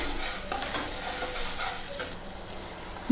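A paste of cashews and green chilies fries in oil, hissing evenly while a utensil stirs it with faint scraping taps, then quietening near the end.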